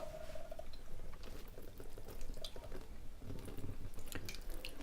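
Water poured over small seed trays of freshly sown onion and lavender seeds, set above a plastic tray indoors; a steady splashing trickle with scattered drips runs for several seconds at moderate level.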